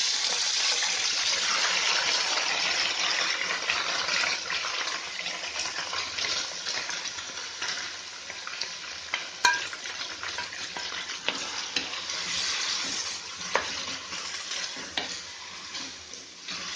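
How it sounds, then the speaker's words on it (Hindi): Marinated chicken for Instant Pot chicken biryani fries in hot oil, a steady, dense sizzle that carries on throughout with occasional stirring clatters and pops. "दो 3 मिनट को हम भून लेंगे।"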